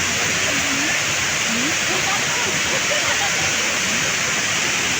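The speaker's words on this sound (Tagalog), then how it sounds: "Nilakas ng ulan." Heavy rain pours down in a storm, a loud, constant rushing hiss of water, with faint voices barely audible beneath it.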